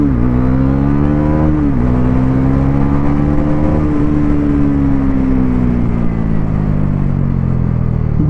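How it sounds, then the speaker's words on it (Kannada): A 2024 Bajaj Pulsar NS400Z motorcycle accelerating hard, a loud, steady engine drone climbing in pitch with a brief shift dip early on, heard close with strong wind rush throughout. "ಇನಿಷಿಯಲ್ ಆಕ್ಸಲರೇಷನ್ ಅಂತೂ ಹೆವಿ ಇದೆ"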